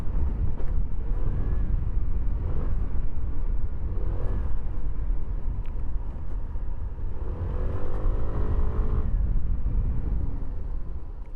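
A Hero Xoom 160 scooter rides off-road on MRF tyres, its engine a low continuous drone buried under heavy wind rumble and rough bumping, steady and close.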